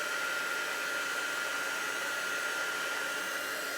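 A heat embossing tool blows hot air in a steady, loud, unbroken whoosh that stays close and constant throughout.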